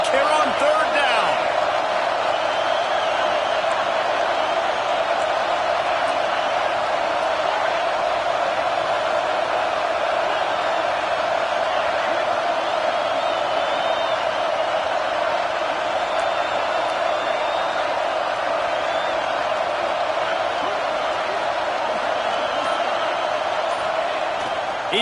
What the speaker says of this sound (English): This Auburn crowd trying to conjure up a little magic here on 3rd down